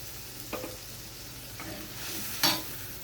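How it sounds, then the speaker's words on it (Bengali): Fish gravy bubbling and simmering in a pan, a low steady hiss with a few soft clinks and bursts, quiet and close with no voices. "গ্রেভিটা ফুটতে দেব।"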